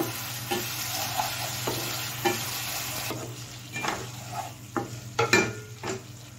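Potatoes frying in spice masala in a pan for a vegetarian aloo paneer dish: a steady sizzle runs throughout, broken by intermittent scraping stirs of a spoon, with no talk.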